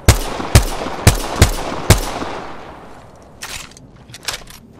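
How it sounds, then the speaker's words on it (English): Gunfire in the video game Apex Legends, five sharp loud shots in an irregular rhythm with echoing tails, followed by fainter distant bursts. "Shooting."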